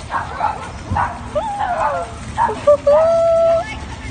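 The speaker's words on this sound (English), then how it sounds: "there's two dogs yanking and barking at each other" Two dogs lunge and bark at each other inside a Walmart store, sharp close yips and whimpering whines in short bursts with a longer high whine near the end, under people talking.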